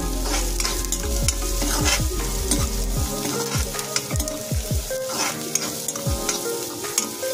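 Onion fries in oil with garlic, ginger and chilli paste over a raised gas flame, a constant close sizzle broken by repeated scraping strokes of a spoon stirring the pan, no voices.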